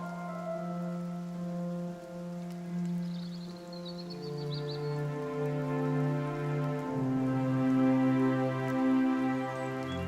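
Steady rain patters across a garden with white wisteria in flower, a continuous soft wash mixed under prominent sustained musical tones.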